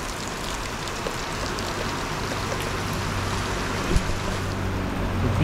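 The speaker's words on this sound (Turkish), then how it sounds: "Fena yağmur yağıyor." Heavy rain pouring steadily from a shelter under a house during a hitchhiking trip in Malaysia, a dense, loud, continuous hiss with no voices.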